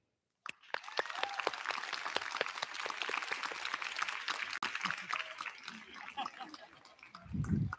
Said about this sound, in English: let us please offer a round of applause in honor of all of those who have helped us to get here